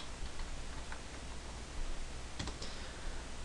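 Quick, light keystrokes tap on a computer keyboard at a modest distance, a soft irregular clicking over steady background hiss, with a couple of sharper clicks near the end.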